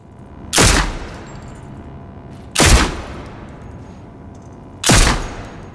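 Three loud pistol shots from a horror video game, each with a roomy interior reverb tail, spaced about two seconds apart.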